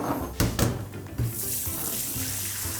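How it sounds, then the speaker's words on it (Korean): Cold water runs from a kitchen tap into a container, ready for cooling boiled eggs; a steady close hiss of flowing water with a few louder splashy bursts near the start. "일단은 찬물을 준비해 놓을게요."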